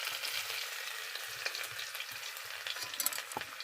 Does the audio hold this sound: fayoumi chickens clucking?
no